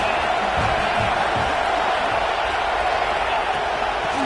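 Football stadium crowd roaring and yelling, a dense continuous wall of cheering and whoops at steady high volume, with an announcer's voice talking faintly beneath the noise.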